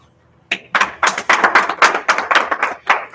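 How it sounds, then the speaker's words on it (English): Brief, close clapping for an Air Force sergeant, starting abruptly and continuing as a quick, uneven rhythm of claps from what sounds like a few people. "I know, big applause."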